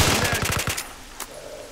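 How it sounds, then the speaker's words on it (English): Rapid automatic gunfire from STALKER: Shadow of Chernobyl crackles in a short close burst of about eight shots, followed by a single fainter shot. "There's a guy shooting me right beside me."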